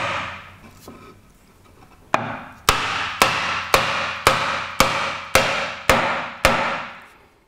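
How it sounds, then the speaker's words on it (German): Light hammer blows tap a hand-cut wooden dovetail joint for a drawer together: after a few soft knocks, nine sharp, evenly spaced raps ring out close and loud, each with a short decay. "Eine solche Verbindung darf mit leichten Hammerschlägen zusammengehen, ohne dass hier irgendwo was aufreißt."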